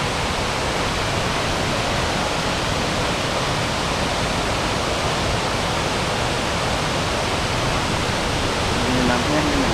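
Kuang Si waterfall in Laos roars with a steady, dense rush of falling water, loud and unbroken across the whole stretch.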